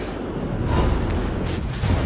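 Bomb explosions from aircraft attacks on ships in World of Warships Blitz, a naval combat mobile game, rolling low booms rumbling steadily for about two seconds at moderate volume with no talk.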